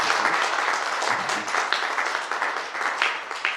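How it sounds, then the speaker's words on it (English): An audience at an academic colloquium on popular violence and the state gives dense, sustained applause close by, steady throughout. "so they deserve a round of applause."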